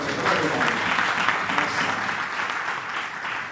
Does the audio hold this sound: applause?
yes